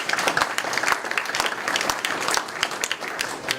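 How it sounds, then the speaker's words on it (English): A room full of people applauds at a conservation preservation forum, dense steady clapping sustained throughout with no pauses. "Please give my colleague a round of applause."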